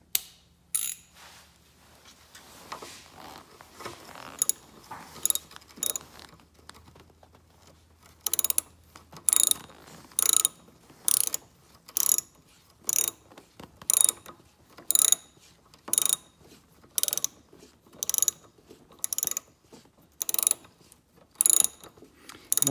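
A ratchet tightens the negative battery terminal on a 2018 Toyota Sequoia: after a few scattered clicks comes a run of short, evenly spaced ratcheting bursts, close and crisp over near silence.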